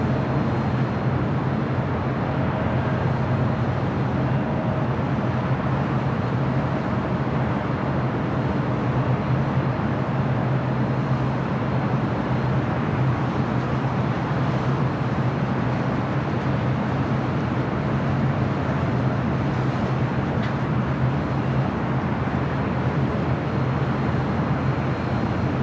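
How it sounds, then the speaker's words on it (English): An Air Tahiti Nui Boeing 787-9 Dreamliner arriving at LAX from Paris produces a broad, steady jet roar that stays loud and unbroken throughout, with no voices. "This is Air Tahiti Nui. Flight coming in from Paris, 787-9 Dreamliner."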